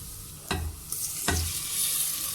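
Steady sizzling of minced meat frying with onions in a pan, with two sharp clanks of a spatula stirring, the hiss rising afterward.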